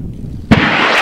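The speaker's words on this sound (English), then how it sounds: "Jeff Cook has his big daddy flying on a D12 that's going off of 5, 8." A model rocket lifts off on a D12 motor at a club launch event: after a quiet moment, a sudden loud ignition burst gives way to a sustained roaring rush of thrust close by.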